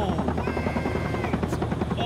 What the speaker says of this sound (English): I know that helicopter's gonna get destroyed.